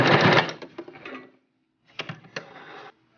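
Sewing machine stitching fabric for a top knot baby headband, running in two short close bursts of rapid needle clatter separated by a brief pause.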